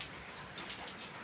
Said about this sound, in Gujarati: અને જો વરસાદ મેઘરાજા સરસ મજાના શરૂ છે.